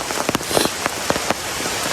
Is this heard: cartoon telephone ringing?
no